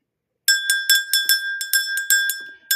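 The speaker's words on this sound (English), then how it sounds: "Let me ring this bell." A small hand bell rung before a tarot reading, chiming repeatedly in a quick irregular series of bright ringing strokes, close and clear with no talking.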